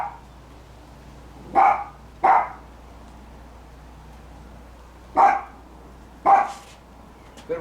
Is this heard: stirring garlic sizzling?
no